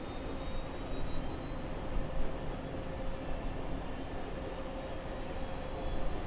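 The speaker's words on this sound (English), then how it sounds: "I can hear the APU spooling up" An MD-11 auxiliary power unit spools up with a broad, steady whooshing roar and a faint rising whine, continuous and fairly close throughout.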